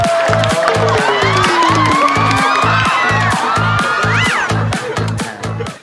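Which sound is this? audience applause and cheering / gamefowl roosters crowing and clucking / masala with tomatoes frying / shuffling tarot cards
audience applause and cheering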